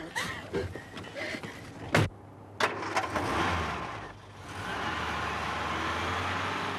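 A car starts with a few sharp bursts and catches, then idles and settles into a steady, moderately loud engine hum as it pulls away, with faint movement noises early on.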